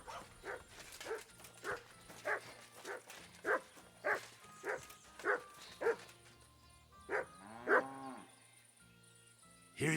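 A dog named Mutt in the video game Kingdom Come Deliverance 2 gives a run of repeated barks at a steady rhythm, each bark distinct and fairly close, followed by a longer whining yelp near the end.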